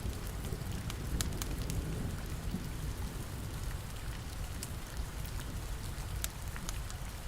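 Steady heavy summer monsoon rain pours outside a window, a dense constant hiss with scattered sharper drops and a low rumbling undertone.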